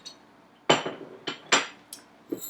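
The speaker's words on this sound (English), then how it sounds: "you take a wrench and then you will crank down on it with a wrench" A wrench clanks against a brass fitting on an ozone generator while tightening it, a handful of sharp close metallic knocks and clinks spaced irregularly over a quiet background.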